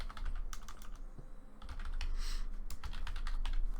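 Fingers type quickly on a computer keyboard, the close, crisp keystrokes coming in irregular bursts and clusters with no voices.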